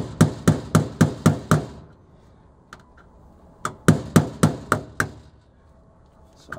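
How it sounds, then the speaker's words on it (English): Hammered punch piercing a small screw hole in the metal of a soda vending machine: two runs of about six sharp, evenly spaced metallic strikes, close and loud, separated by a quiet pause with a couple of lighter taps. "So I've pierced the metal, and I want a really small hole so when I do the screws, it makes the threads."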